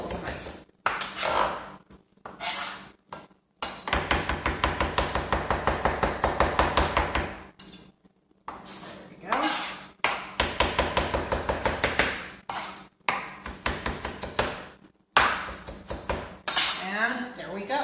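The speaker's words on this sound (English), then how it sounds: "So I work in small batches if you're not used to dicing well with a knife." A knife chops vegetables for pico de gallo on a cutting board in small batches, making loud, fast rhythmic runs of thudding strokes broken by short pauses, close up and with no talk over it.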